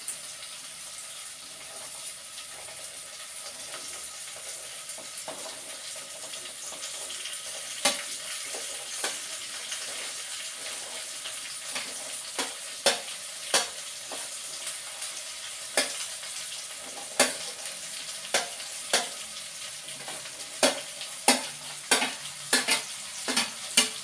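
Long beans stir-fried in a pan for a tumis kacang panjang, a steady soft sizzle with an increasing run of sharp scraping stirs and clacks toward the end, no voices.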